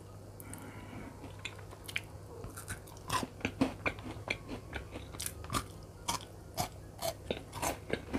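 Crunchy four-finger Kit Kat wafer bars bitten and chewed up close, a steady run of sharp crisp crunches with wet mouth sounds in between, no talking.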